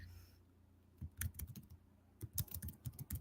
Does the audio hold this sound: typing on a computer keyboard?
yes